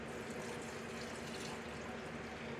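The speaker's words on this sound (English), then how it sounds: "I got 1 cup of the wine vinegar, white wine vinegar. So I pour that in." White wine vinegar pours steadily into a small pot, a continuous close liquid rush with no talking.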